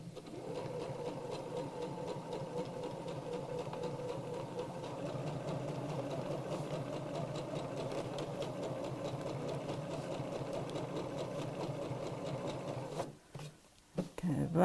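A sewing machine stitches fabric for a reverse applique heart mat, running steadily at a close, even whir for most of the time before slowing into a few short stops and restarts at the end.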